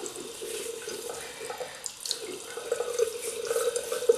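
Tap water runs steadily into a sink as a man re-wets his face while shaving with a double-edge razor, a close continuous splash with irregular spattering as hands dip into the stream.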